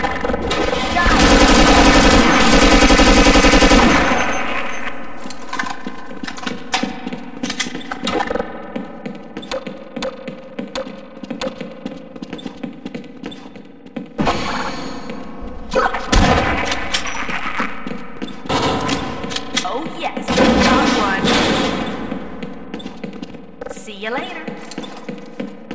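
Automatic weapon fire in the video game Half-Life: Azure Sheep, a loud sustained burst at the start followed by further bursts of rapid shots, with speech and other game sounds mixed in.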